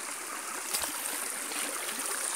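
Drinkable river water flows in a steady, broad rushing stream with light gurgles and trickles, moderately close and alone.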